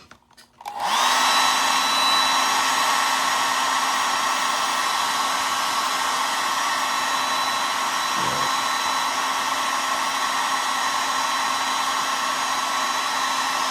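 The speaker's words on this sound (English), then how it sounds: "That's the beauty part about the hairdryer." A hair dryer switches on and blows with a steady, loud whirring roar that runs unbroken to the end.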